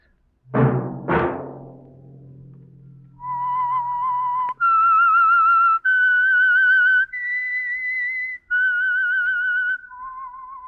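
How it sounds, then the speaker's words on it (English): A man whistles the signature theme of The Whistler radio mystery program: a loud, clear, slow melody of sustained notes, preceded by two deep resonant chime strokes that ring out and fade. "Let that whistle be your signal for the Signal Oil program, The Whistler."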